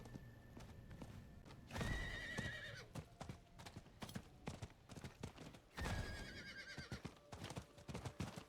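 A horse in the Diablo IV video game gallops with rapid, rhythmic clip-clop hoofbeats, close and clear, broken by two loud whinnies, with faint game ambience underneath.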